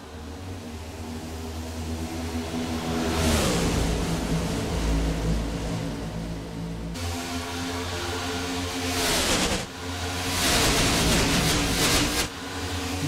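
A pack of stock cars in iRacing at Daytona accelerating from a race start, a sustained loud engine roar with rising pitch sweeps as the cars pick up speed, continuous and dense.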